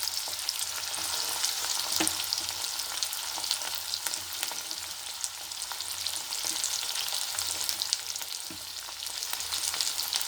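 Ridge gourd peel sautés in a pan, giving a continuous close sizzle with scattered clicks and scrapes from stirring throughout.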